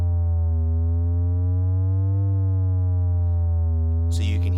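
A MiniBrute 2 analog synthesizer holds a steady buzzing tone while its LFO gently modulates the oscillator pitch, producing a slow subtle wobble, loud and continuous, with a brief noisy burst at the very end.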